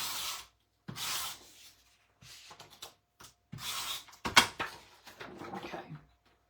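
A 12 by 12 strip of scrapbook paper is trimmed, giving a series of close, dry swishing and rubbing strokes. Short, uneven bursts are broken by brief silences.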